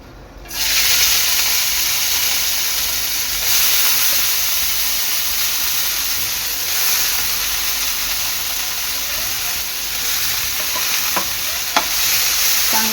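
Sprouted mung beans hit a hot pan and sauté with a loud, constant hiss that starts abruptly and holds steady, a few faint scraping clicks near the end.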